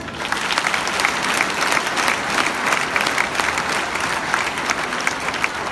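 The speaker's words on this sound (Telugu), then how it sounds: "ఒక్కసారి క్లాప్స్" A crowd claps continuously, a dense, even wash of applause that holds steady throughout without voices standing out.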